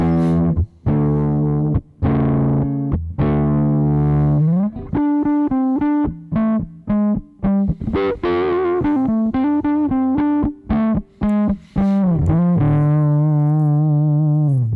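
Overdriven electric guitar on the neck pickup with a warm, rounded tone, playing sustained chords and choppy riffs with short pauses, loud and close with no talking.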